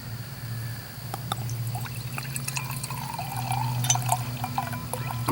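Homemade Pinot Grigio wine pours into a glass in a steady, faint liquid trickle against a low background hum, with no talking.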